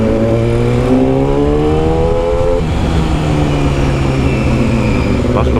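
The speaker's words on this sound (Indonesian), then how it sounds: "lebih sangar sih ya suaranya daripada yang knalpot lama, dan lebih banyak beletak-beletaknya cuy" A Yamaha R6 motorcycle with a custom exhaust revs loudly up close, its engine tone climbing then dropping into a rough, crackling throttle-off burble that continues steadily throughout.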